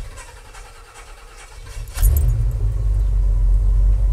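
A 1961 Chevrolet Apache pickup sits quiet at first, then its engine abruptly catches and settles into a loud, steady, low rumbling idle up close.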